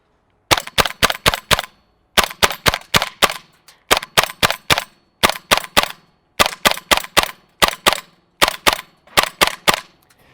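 A GHK G5 gas blowback airsoft rifle running on green gas fires 0.25 g BBs outdoors in rapid bursts of four or five sharp, snappy cracks, separated by short pauses, loud and close.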